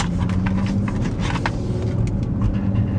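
A car fitted with Menox hand controls for a paraplegic driver pulls away, its engine and road noise steady and close inside the cabin, with small clicks and rustles over the hum.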